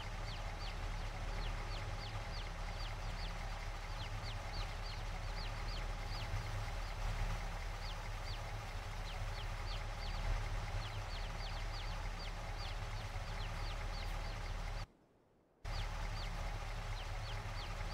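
Chickens cluck steadily in Farming Simulator 22 over a constant low engine-like hum, with repeated short clucks running throughout and a brief dropout near the end.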